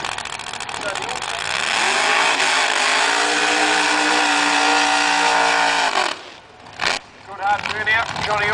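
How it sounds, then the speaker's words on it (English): A drag racing car on slicks at Ruapuna does a hard burnout, a loud sustained screaming roar with engine tone rising, then cutting off abruptly into sputters, with a voice talking over it. "Hard burnout from Johnny also."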